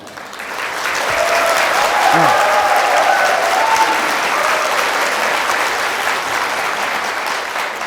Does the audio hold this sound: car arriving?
no